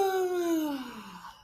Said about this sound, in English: So everybody give me a nice big yawn.